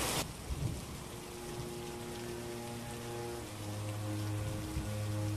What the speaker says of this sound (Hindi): तुरंत आसमान में बादल घिर आते हैं और तेज मूसलाधार बारिश होने लगती है